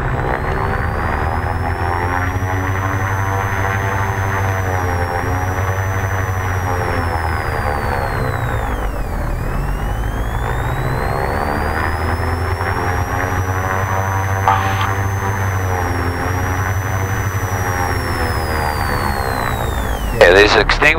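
Engine run-up on a Diamond DA-42 NG twin-engine aircraft: a loud, steady propeller drone with rising and falling tonal sweeps as the engine speed changes, continuous and close, ending with a brief clatter.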